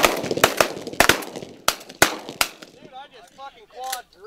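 Shotgun blasts fired at pigeons during a hunting contest, about eight loud sharp reports in quick irregular succession, close by, followed by voices talking as the shooting stops.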